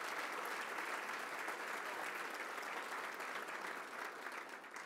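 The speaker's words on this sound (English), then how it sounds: "Let's give them a big round of applause." Steady, dense applause fills a luncheon hall at the Long Island Association annual event, a sustained wash of many hands clapping that holds evenly and eases slightly at the end.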